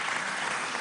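Audience applause at a televised political broadcast, a dense, even wash of clapping from a crowd, steady and moderately loud throughout the short moment.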